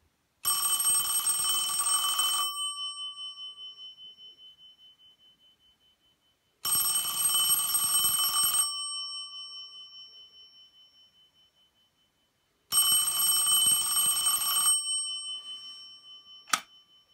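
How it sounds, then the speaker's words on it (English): A 1977 Western Electric Princess telephone ringer strikes one gong in three long ringing bursts separated by pauses, each with a bright metallic tone that decays slowly, then a short final tap. "you'll be able to hear this really nice Princess ringer. It's just a single gong"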